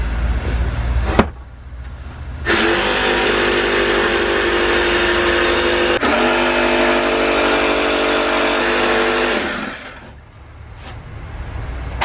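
A power saw cutting during a Sprinter van conversion, a loud whining run of about seven seconds after a short burst, then winding down to quiet.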